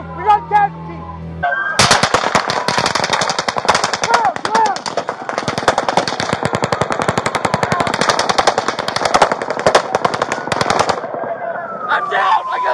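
Sustained loud gunfire from a police shooting incident, long rapid bursts of close shots with brief gaps, with voices shouting through it.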